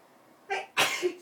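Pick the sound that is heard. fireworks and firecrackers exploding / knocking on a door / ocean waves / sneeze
sneeze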